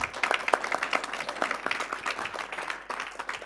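An audience applauds to welcome a speaker at a talk, a dense, steady burst of clapping throughout, fairly close and loud.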